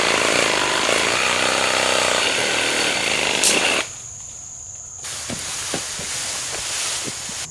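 A Sawzall reciprocating saw cuts down a cedar tree outdoors, a loud, steady buzzing drone for several seconds that stops abruptly, followed by quieter outdoor noise with insects and a few faint knocks.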